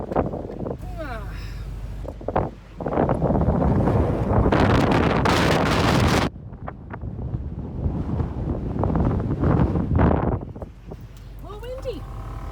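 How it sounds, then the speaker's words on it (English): Wind noise through open car windows while driving, a loud buffeting roar that swells and drops in gusts, with people talking over it at times. "Let's see if we can hear some wind noise if we roll the windows down"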